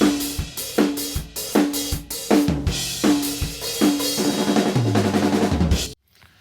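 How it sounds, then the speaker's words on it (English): An unprocessed, thin-sounding drum kit recording plays back in Cubase Pro 9: a steady groove of kick, snare and cymbals, with a tom fill toward the end before it cuts to silence. "go from a weak drum sound like this"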